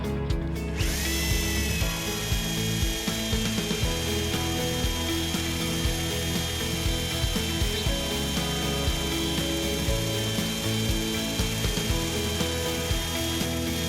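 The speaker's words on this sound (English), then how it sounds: "This grade of boron drills all the way through very easily, as you can see." A drill bit grinds steadily through a plate of non-heat-treated boron steel, HB 240 to 260, with a continuous loud mechanical whine and rattling vibration up close, no voices.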